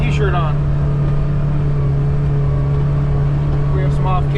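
A 2024 Kawasaki Ridge XR side-by-side drives along a sunny dirt trail, its engine holding a loud, steady drone, with brief voice sounds near the start and end.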